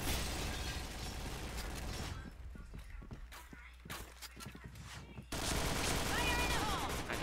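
Bursts of automatic gunfire in the shooter Point Blank crackle loudly and continuously, drop into scattered sharper shots mid-way, then return in a dense close barrage while a player talks over it.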